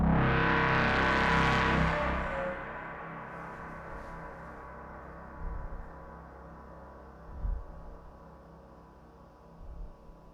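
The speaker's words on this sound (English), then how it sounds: "How do you like the reverb on this sound?" Ambient synth tone with heavy reverb, swelling loud at first then decaying into a long, soft wash with a few faint low thumps recurring underneath.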